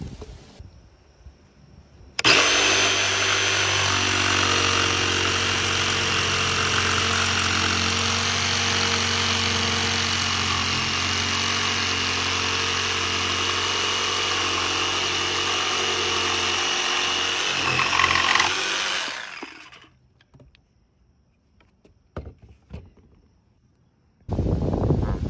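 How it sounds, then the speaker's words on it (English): A jigsaw cuts through wet pressure-treated wood with a loud, continuous buzzing rasp that runs for about sixteen seconds, then stops, followed by faint handling knocks. "I'm gonna use this jigsaw here to cut it"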